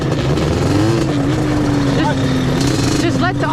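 The engine of a Yamaha Banshee ATV drones near and loud, its pitch wavering and dipping as the revs shift, while someone talks over it.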